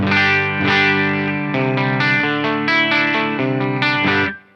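Electric guitar played through an LPD Pedals CLE-304 compressor, a series of sustained, evenly leveled chords and notes struck in a loose rhythm, close and bright, ending in a quick fade; no speech.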